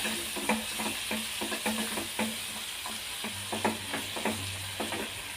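Crushed small shallots sautéing in oil for a chicken fry, a soft continuous sizzle punctuated by repeated scraping stirs, with a brief low hum midway.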